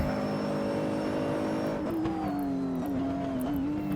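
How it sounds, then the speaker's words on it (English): Nissan GT-R engine droning steadily through a lap of the Nordschleife in a racing sim, a constant loud tone that climbs and dips with shifts and revs, with no talk over it. "This car is very frisky around here."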